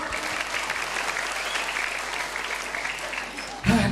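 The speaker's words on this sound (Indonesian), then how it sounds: "Tepuk tangan untuk penonton." Steady audience applause from a crowd at a live Balinese bondres comedy show, dense continuous clapping filling the space before tapering briefly at the end.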